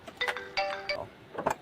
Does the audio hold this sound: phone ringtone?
yes